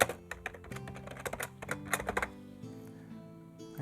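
Someone types code on a computer keyboard in quick, clattering bursts of close, sharp keystrokes that thin out into a few scattered taps toward the end, with no speech.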